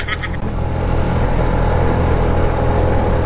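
A Honda Genio scooter at full throttle climbs a steep hill with a passenger aboard, its engine droning loud and steady with heavy wind rumble throughout.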